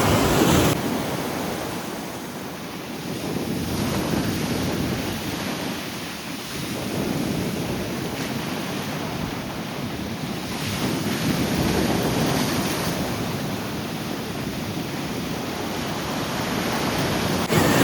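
Stormy sea surf rolls onto a beach in Chornomorsk, a continuous loud roar of breaking waves with heavy wind buffeting the microphone and no voices.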